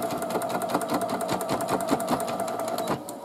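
Sewing machine stitching a placement line on a hooded towel, a fast even rattling of needle strokes running close and continuous, with no pauses.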